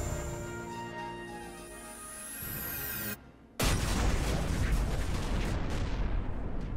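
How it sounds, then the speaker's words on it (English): An ion cannon final attack in Final Fantasy XII: a rising high-pitched charging whine, a brief hush, then a loud, sustained roaring blast that slowly decays. "Hers is an ion cannon."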